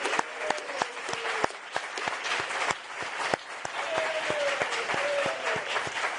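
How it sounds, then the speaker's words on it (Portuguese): A press-conference audience applauds for Zinho, a four-time world champion footballer, on his birthday. The clapping is moderate and scattered, with distinct sharp claps over a bed of room noise and a faint tonal whine. "eu queria pedir aqui um aplauso para o Zinho, fazendo aniversário hoje, tetracampeão mundial"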